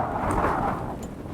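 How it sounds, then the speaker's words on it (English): Strong outdoor wind buffeting a microphone, a steady low roaring rumble with no talking for just over a second. "You can't tell, it's really windy"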